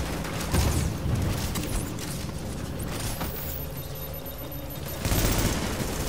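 Rapid bursts of gunfire in a video game shootout, a dense rattling fusillade with louder volleys near the start and end, sustained through the whole stretch under a noisy backdrop.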